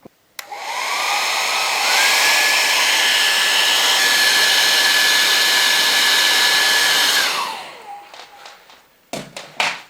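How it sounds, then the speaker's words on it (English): A hair dryer dries a watercolour painting of stones that has been sprinkled with salt. It blows as a steady, loud whoosh for about seven seconds, then switches off, and a few light taps follow. "get my hairdryer"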